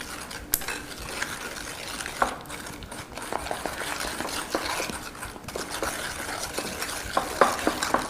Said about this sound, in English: Then you want to add your sugar. I have 2 cups of white sugar here. And blend that into those frothy little eggs.